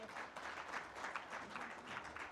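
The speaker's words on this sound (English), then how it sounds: "A big round of applause" Faint applause from a gathering at a CEO round table, a soft, continuous patter of many hands clapping heard from a distance.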